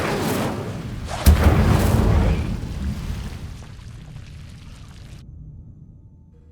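Incendio fire spell in Hogwarts Legacy bursts out with a sharp whoosh and fiery roar that flares loudly, then fades into crackling before silence.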